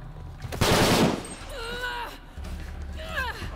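Assault rifle gunfire in Shadow of the Tomb Raider, a loud close burst lasting about half a second, followed by character voices speaking over game ambience.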